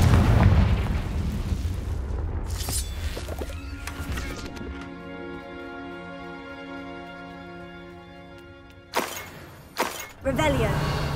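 A Confringo fire spell explodes in Hogwarts Legacy, a loud burst that rumbles and rings out over several seconds with a long tonal tail, followed by a few sharper magical pops near the end.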